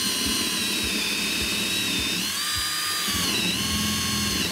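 A power drill with a 5/8 inch bit bores a hole for half inch J-bolts while sill plates are laid out, whining steadily and loudly with a regular pulsing thump underneath.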